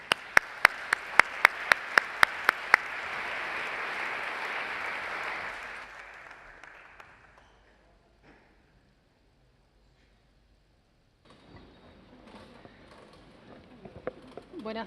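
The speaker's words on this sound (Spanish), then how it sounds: "Un aplauso para ellos." Guests at a political debate presentation get dense audience applause, with several sharp, close claps standing out at first. The clapping fades out after about six seconds into near silence, and then quiet room sounds return.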